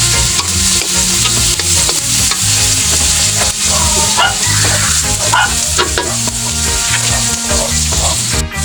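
Shrimp sizzling and frying in a pan while being stirred for ginisang monggo with tomato, a steady loud crackle broken by scraping stirs, with a dog barking faintly in the background.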